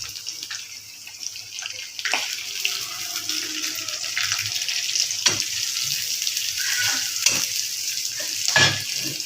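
Onions frying in a pan for a breakfast dish of fried raw papaya, a steady close sizzle with scattered sharp clicks and stirring clatter, with no voices.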